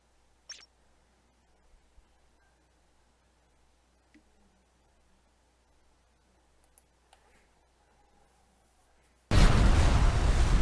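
Sudden loud blast from an explosion in the shooter game F.E.A.R. Extraction Point, arriving near the end after a long stretch of near silence with faint scattered ticks and clicks.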